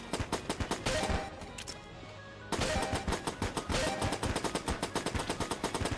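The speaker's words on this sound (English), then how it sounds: "it's causing me to fire like multiple shots" Rapid automatic gunfire in the video game Enter the Gungeon, a dense, steady stream of punchy shots that stops for about a second and then resumes at the same fast rate.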